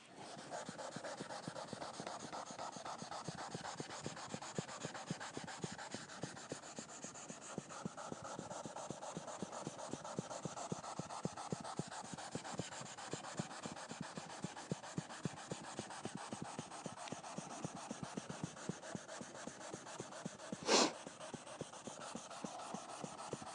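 Sandpaper rubs steadily across wood being sanded in an oil finish, a soft, rapid back-and-forth scratching in even strokes, close and quiet, with one brief sharper scrape near the end.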